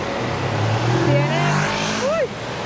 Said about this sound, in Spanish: Miren este tráfico que hay aquí el día de hoy